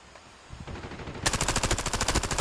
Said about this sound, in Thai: ร้อยนัด ร้อยนัด ยิงแบบไม่ค่อยโดน